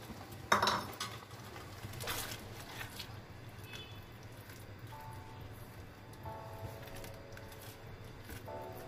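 Cornflour is stirred into vegetable chicken pasta in a pan, giving a few sharp utensil clinks against the metal early on, then quieter scraping over a low background hum.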